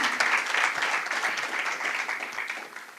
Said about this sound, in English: A round of applause to the SG.